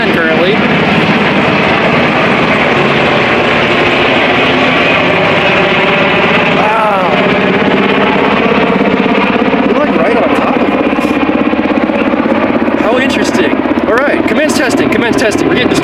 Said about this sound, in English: I bet you they're PG&E choppers doing lifts